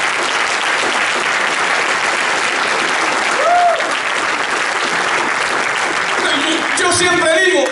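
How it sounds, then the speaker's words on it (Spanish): A church congregation claps loudly and steadily throughout, a dense wash of applause from a large crowd, with a brief voice and a few other sounds rising near the end. "Vamos a darle fuertes esas palmas a Dios."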